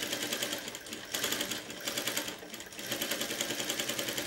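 A sewing machine stitches a short seam along a curved neckline edge, running in quick rattling bursts with two brief pauses, close and loud with no talking.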